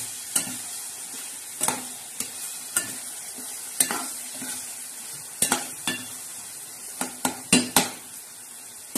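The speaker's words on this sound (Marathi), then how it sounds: "आता हे छान असं परतून घेणार आहे." Tomatoes with turmeric sautéing in hot oil, a constant sizzle broken by a dozen sharp spatula knocks and scrapes against the pan at irregular intervals, close up with no talking.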